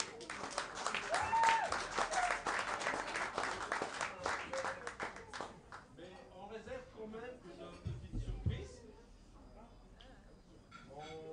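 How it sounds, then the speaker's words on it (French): Audience applause at a live French event, a burst of clapping from a crowd over the first few seconds that thins out, with talk over and after it. "j'aurais bien aimé que vous applaudissiez juste un peu pour nous"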